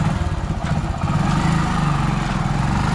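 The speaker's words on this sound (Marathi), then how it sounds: "गाडी चावी लावून आम्ही आता गाडी स्टार्ट करूया" A Splendor motorcycle engine runs steadily with a low, rumbling mid-range throb, loud and close, on the way to a village river fishing trip, with no talk over it.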